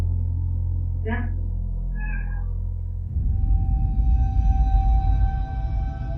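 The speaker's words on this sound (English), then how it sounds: "Even the cat appears to be scared as it quickly jumps off the bed after sensing something wrong." A cat gives two short, close meows against a low steady hum, followed by a louder rumbling ambient noise.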